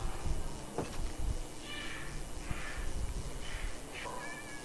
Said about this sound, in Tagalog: Uy, pusa.